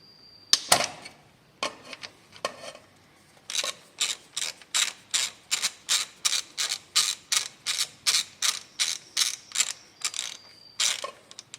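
A ratchet with a 15mm socket loosens the oil drain plug on a 2004 Saab 9-3 1.8t, giving a few separate clicks and then a quick, even run of about twenty close ratcheting strokes, with no talk.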